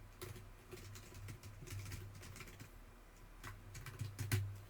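Keystrokes tap on a computer keyboard as a password is typed, in quick irregular bursts of clicks separated by short pauses, close and fairly quiet, with birds cooing softly in the background.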